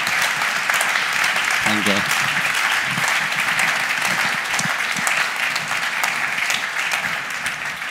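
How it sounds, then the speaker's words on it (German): An audience applauds a guest at a German evening talk-show discussion, steady dense clapping filling the room from start to finish, with a brief spoken word of thanks partway through. "Applaus für unseren ersten Diskutanten des heutigen Abends."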